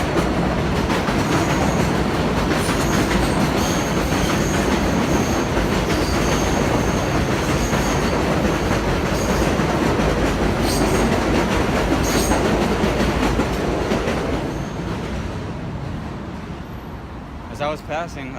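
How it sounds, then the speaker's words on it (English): A train rumbles past close by for a long stretch, wheels clattering rhythmically with faint squeals, then the noise fades as it moves away. "hold up, train coming."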